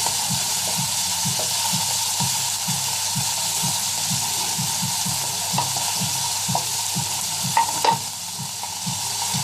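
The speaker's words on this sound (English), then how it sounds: "Get those langoustines flat down here, get them cooked." Langoustines laid flat and frying in a hot pan, a loud, steady sizzle with a rapid regular ticking pulse underneath and a few brief clinks near the end.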